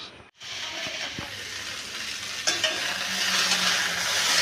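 White potato chorchori sizzles and hisses steadily in a home kitchen pan, with stirring clinks and scrapes now and then. The frying is close and continuous and grows slightly louder toward the end.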